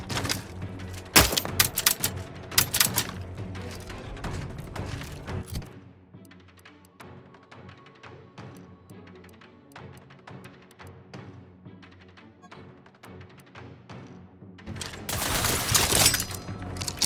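Rapid bursts of gunfire in The Outer Worlds 2, dense loud volleys at the start, sparser scattered shots through the middle, then another heavy burst near the end.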